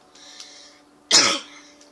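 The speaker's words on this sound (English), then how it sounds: "I can't stop coughing." A person suffering from a cold coughs once, sharp and close to the microphone, after a quiet stretch with a faint steady tone from computer game sound underneath.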